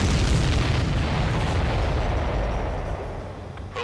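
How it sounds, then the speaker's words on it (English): An enemy supply ship blows up in the combat flight game Ace Combat 7: Skies Unknown, a loud, deep, sustained explosive roar that rumbles on and slowly fades over several seconds, with no voices. "Did you see that explosion?"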